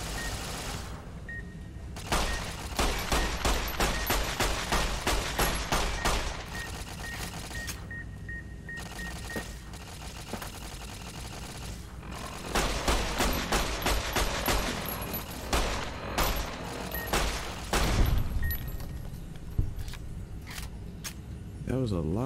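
Repeated gunfire bursts from the Fallout: New Vegas Dead Money add-on, loud and dense in clusters with short gaps, mixed with game ambience and clattering effects over about twenty seconds.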